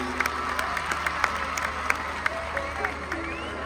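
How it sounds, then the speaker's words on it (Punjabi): A crowd claps at Satinder Sartaj's live show in his home village of Bajrawar. Sustained applause is laced with sharp individual claps and some cheering voices in the background. "ਇੱਕ ਵਾਰੀ ਜ਼ੋਰ ਦਾ ਤਾੜੀ ਮਾਰ ਦਿਓ ਇਸ ਧਰਤੀ ਦੇ ਨਾਮ ਦੀ"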